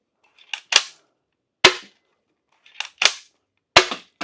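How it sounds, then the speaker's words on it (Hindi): A toy shotgun loaded with water and soft bullets fires four sharp pops, some preceded by a faint click, spaced about a second apart against silence, loud and close. "तीनों को मैंने फायर कर दिया"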